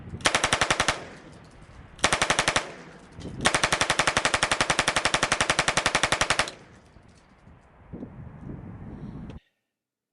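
Full-auto 5.56 machine gun firing outdoors in three bursts, a short burst, another short one, then a long sustained rattle of rapid shots, close and loud, with quieter wind noise after.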